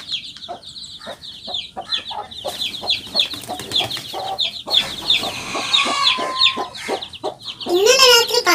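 A mother hen clucking among a mixed brood of hatched and incubator chicks, with steady rhythmic clucks, high chick peeps and louder agitated calls toward the end, close by.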